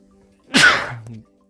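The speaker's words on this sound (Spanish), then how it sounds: "Uy, voy a estornudar." A single loud, close sneeze bursts out, a sharp breathy blast that trails off quickly into quiet.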